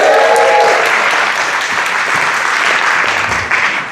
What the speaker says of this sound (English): I'll stop there for applause.